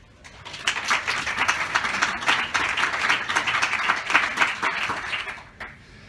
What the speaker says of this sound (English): give a big hand of applause for Dirk Helbing